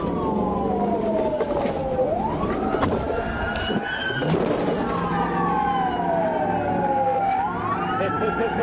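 A marked state patrol car's emergency siren wails loud and close, its rising and falling sweeps repeating steadily through the clip over road noise, with no talk.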